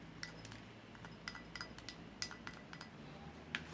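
Cream being stirred into a mixture in a small container for a homemade natural BB cream foundation, soft repeated clinks and scrapes of a utensil against the vessel, faint and steady with no talk.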